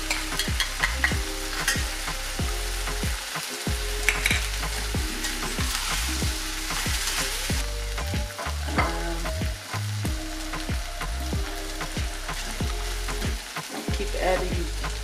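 Garlic frying in a pot for a corned beef and tinned fish dish, a steady loud sizzle broken by repeated scraping stirs of a utensil against the pot.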